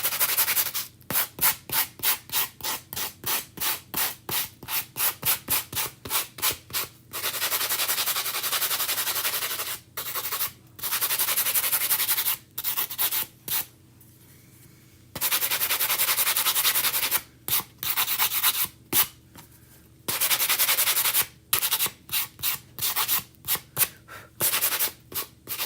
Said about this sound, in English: Now we're going to take just our sanding block here.